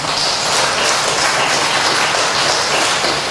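Church congregation applauding together during a Sunday worship service, a steady, dense wash of clapping that fills the whole stretch evenly without pauses.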